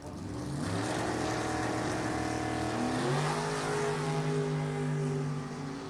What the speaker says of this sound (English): what it looks like when somebody foot brakes or leaves off a trans brake in a dragster off the bottom